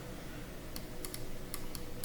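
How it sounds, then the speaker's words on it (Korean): Computer keyboard keys pressed in a Ctrl+G shortcut while working in Altium PCB design software: a handful of crisp, separate clicks at an irregular pace over a steady low background hum. "컨트롤 키를 누르고 G키를 누르면 이렇게 나옵니다"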